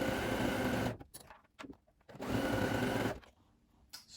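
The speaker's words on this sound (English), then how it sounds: "Pop it into the machine again with a zigzag stitch." Sewing machine running a zigzag stitch over elastic for leggings, buzzing steadily in two long bursts with a short stop-and-start between them, close and fairly loud with no talk.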